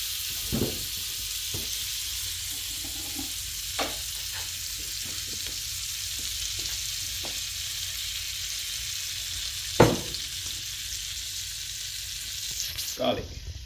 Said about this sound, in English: cold butter into the pan. Let that sizzle.